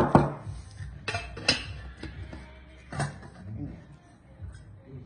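Metal clinks and clatter as a detachable Saladmaster cookware handle is fitted onto an Alto skillet, a few sharp knocks spread over several seconds with a faint voice beneath.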